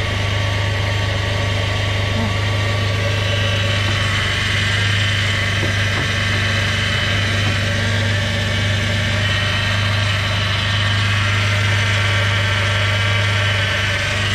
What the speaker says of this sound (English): Seems like it's idling a little high.